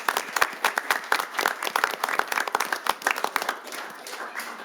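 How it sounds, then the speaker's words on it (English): A small city council meeting audience applauds police officers and new canines, with close, uneven individual claps from a modest group, moderately quiet and tapering off toward the end. "Let's give one more great round of applause."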